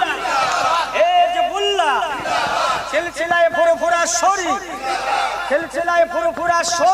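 A religious crowd at a Bengali sermon gathering answers a preacher with loud, rhythmic chanted responses, many voices shouting together in repeated call-and-response waves that run throughout.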